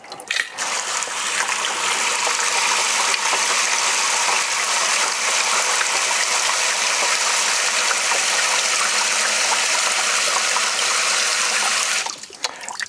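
Water mixed with antifreeze gushes steadily from the cold side of a faucet in a 2024 Winnebago Revel camper van, a loud, continuous rushing flow that holds for about eleven seconds before cutting off abruptly.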